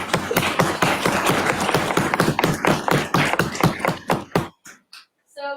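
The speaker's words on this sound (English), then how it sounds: "Let's give a round of applause." A conference audience at a general session in Houston claps in steady applause that thins out to a few scattered final claps.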